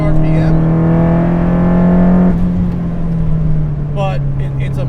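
SR20-swapped Nissan S13 240SX with a steady engine drone while driving, holding an even tone that dips slightly midway, with people talking over it throughout.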